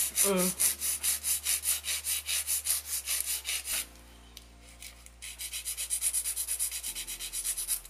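A hand file works rapidly back and forth on an acrylic stiletto nail tip, close and rhythmic raspy strokes that pause briefly, then resume in a quicker, softer series.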